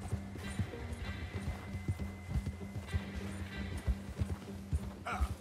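Horse hooves gallop in Red Dead Redemption 2, a fast, steady clip-clop rhythm that runs throughout at moderate distance under a low ambient game backdrop, without speech.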